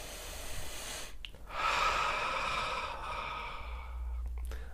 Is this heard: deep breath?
yes